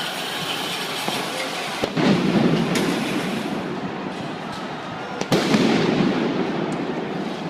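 Police shock grenades exploding during a street protest in Rio de Janeiro, two sharp loud blasts a few seconds apart amid a dense, echoing roar of crowd and street noise.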